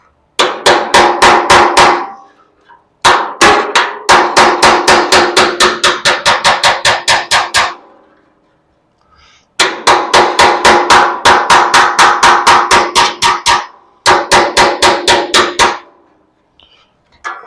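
A hammer taps a drill bit in quick, loud, even runs of metallic strikes, the bursts separated by short pauses, with no talking.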